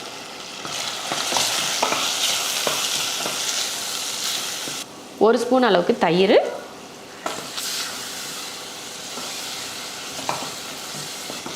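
Masala of tomato, chili powder, garam masala and turmeric sizzles and fries in a pan, with steady stirring and scraping throughout; a person talks briefly in the middle.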